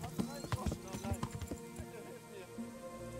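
Horse hooves clip-clop at a brisk, uneven pace while riding through woods in the medieval video game Kingdom Come Deliverance, with a voice talking over them.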